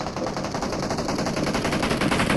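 Rapid automatic gunfire from a PUBG match on the Miramar map, a dense continuous burst of shots lasting a couple of seconds, loud and close with no voices over it.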